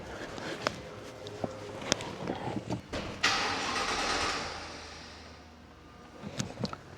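A BMW's engine cranks with a broadband whir for a few seconds, then stops abruptly, leaving quiet workshop clicks and shuffles; the car won't catch and run.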